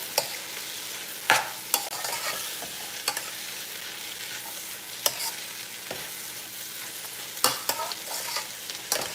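Pumpkin fries in a pan for okra and rice with stew fish, sending up a continuous close sizzle broken by sharp clinks and scrapes of stirring.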